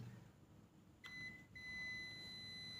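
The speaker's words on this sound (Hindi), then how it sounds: "देखिए ये बजर बोल रहा है, देखिए।" A multimeter continuity buzzer sounds on the circuit board of a Microtek inverter being repaired, a short blip followed by a sustained steady high tone after a brief gap, against quiet room hum.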